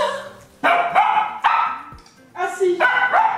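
A dog gives a few loud, close barks and yips in separate bursts, with a person talking between and over them.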